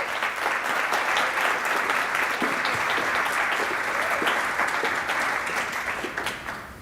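Audience applauding city staff at a State of the Cities event for Farmington Hills, dense sustained clapping throughout that tapers slightly at the end.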